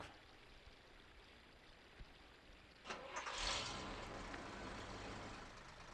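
A tow truck engine in the Tonka Search & Rescue video game cranks and starts after a few quiet seconds, then settles into a steady, moderately loud running hum.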